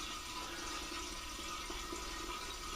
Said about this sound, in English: take this hose and splash it against the side just to make it degas a little bit